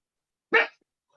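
A single short dog bark, close and fairly loud, standing alone in otherwise quiet surroundings.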